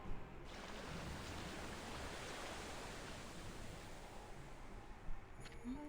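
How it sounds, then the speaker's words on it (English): Rushing seawater floods a ship in the video game Okami, a dense, steady broadband roar of churning water that holds on loudly throughout, with a brief splash near the end. "cold seawater floods the ship again"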